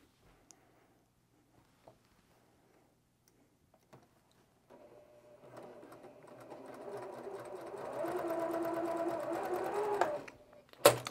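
A sewing machine stitches fabric rectangles onto the sides of a quilt block, starting after quiet handling noises and building into a steady whirring run that grows louder before ending with a sharp click.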